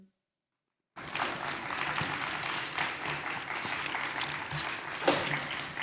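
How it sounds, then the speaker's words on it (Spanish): After a second of silence, an audience breaks into applause for the speakers and moderator of a transitional justice panel, steady sustained clapping that holds at an even level throughout. "Damos un aplauso y agradecemos a los ponentes y a la moderadora"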